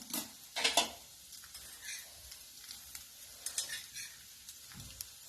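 Potato pieces are stirred in hot oil in a pan for a fasting potato dish. Soft sizzling runs underneath while a spoon scrapes and clinks in short, irregular bursts, and no one speaks.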